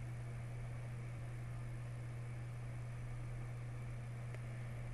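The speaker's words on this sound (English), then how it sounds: "then centrifuge for 1 minute at 1000 Gs" A laboratory centrifuge spins a nucleic acid reaction mixture at about 1000 G, giving a steady faint hum with a constant low tone throughout and no voices.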